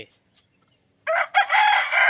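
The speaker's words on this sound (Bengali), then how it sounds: "মুরগিরা ঘড়ির মতন কাজ করে ভোরবেলা হবে তখন ডাকবে" A rooster on a rooftop crows once, loud and close, after a second of near silence.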